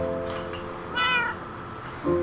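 A cat named Bubbles meows in a survival video game: a short soft mew, then a clearer tonal meow, and a brief final chirp, over quiet background hum.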